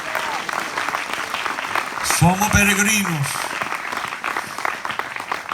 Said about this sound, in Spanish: Aplauda su mano si eres un morador del cielo